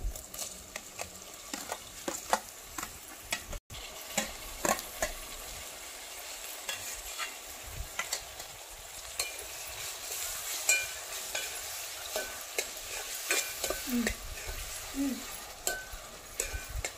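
Tomato pieces and turmeric fry in a pan of mushroom curry, giving off a steady, fairly quiet sizzle with frequent small crackles and pops that run on for a long stretch. No one speaks.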